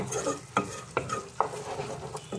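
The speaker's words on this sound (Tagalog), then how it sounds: "Pwede ko nang ipatong yung aking mga alimasa" Crabs go into a hot cooking pot, raising a steady sizzle and frying hiss, with four sharp knocks spaced about half a second apart over the continuous bubbling.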